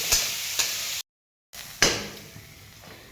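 Grated carrot roasts in a pan while being stirred. Soft frying noise is broken by a few scraping clinks, with a brief silent gap in the middle.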